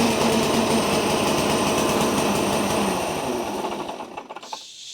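A snowblower's small petrol engine runs with a steady, buzzing, high-pitched drone, loud and close, then sputters and drops away near the end.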